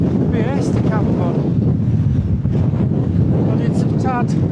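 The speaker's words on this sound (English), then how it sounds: "but it's a tad windy" Strong wind buffets the microphone in continuous gusts on an exposed fell ridge at Bowscale Fell, with a person talking over the roar.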